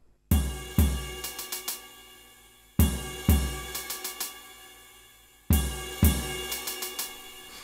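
A drum kit groove repeats three times: a heavy low hit followed by a quick run of four crisp hi-hat notes, clean and close with no talking.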